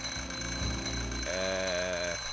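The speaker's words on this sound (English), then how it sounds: "I'm, just testing the smoke detector." A smoke detector alarm in a video game sounds as a repeating electronic tone, steady and fairly loud, with a rhythmic pattern shifting to a higher, brighter pulse partway through. No voices accompany it.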